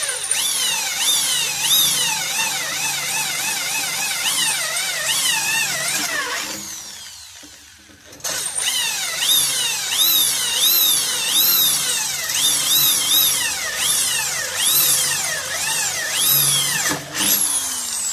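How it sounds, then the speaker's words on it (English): A power drill bores through the surface of a chiminea flue, its motor whining and pitching up and down as the trigger is feathered, loud and close, with a brief pause near the middle before drilling resumes. "And you're just going to drill through the surface."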